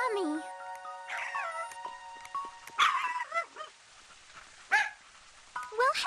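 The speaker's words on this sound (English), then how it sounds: "My, aren't you a yummy-smelling little puppy?" A little puppy yips, whimpers and barks in short, rising and falling bursts, some close and loud, with quiet gaps between them.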